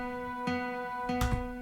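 Acoustic guitar played through a software plugin with no equalizer, a few plucked notes ringing with sustained harmonics and two brighter strums near the end, alone at moderate level.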